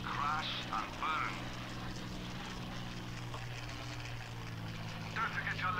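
Hawker Hurricane warbird engine droning steadily in the flight game Combat Wings: Battle of Britain, a continuous propeller-aircraft hum under someone talking throughout.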